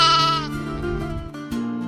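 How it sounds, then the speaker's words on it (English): A sheep bleats loudly and close, one long wavering call followed by a shorter second bleat, with nothing else heard. "sheep"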